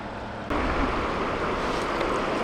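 Steady broadband rush of a river flowing beside a wild camp in Canada, continuous and fairly loud, swelling slightly after a brief quieter opening.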